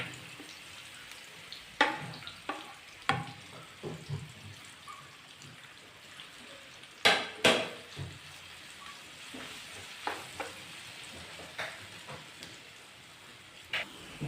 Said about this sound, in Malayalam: ഈ നെയ്യിലേക്ക് ഈ പഴം ചേർത്ത് നന്നായിട്ടൊന്ന് വഴറ്റിയെടുക്കാം.